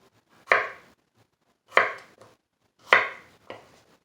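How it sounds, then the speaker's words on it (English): A knife chops through a vegetable baton on a cutting board, four crisp separate thuds spaced about a second apart, close and clear with silence between strokes. "And then cut across this big old baton."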